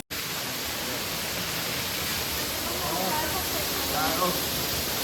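Waterfalls at a Stuttgart zoo send up a steady, full rushing roar that stays even and fairly loud from start to finish, with possible faint voices mixed into the spray noise.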